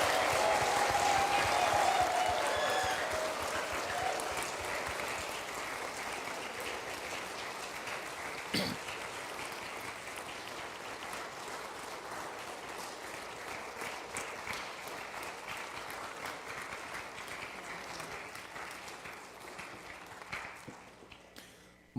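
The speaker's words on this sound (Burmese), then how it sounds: "ပရိသတ်များလက်ခုပ်ဩဝါဒနဲ့ချီးမြှောက်ပေးကြပါ" An audience at a wedding ceremony applauds loudly at first, the clapping gradually thinning and fading over about twenty seconds, with a few sharp individual claps near the end.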